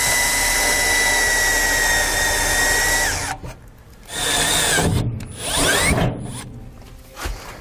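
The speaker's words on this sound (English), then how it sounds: "we're going to take our 9/32 drill bit" A power drill with a 9/32 bit grinds through a van's metal roof, running steadily at first, then in several short, loud bursts with brief pauses between, close up and with no talk.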